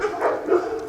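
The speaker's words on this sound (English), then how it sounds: "the dogs barking" Dogs barking and yipping at a training session, one dog shut inside so the sound is muffled; a few short barks at moderate distance, without talk.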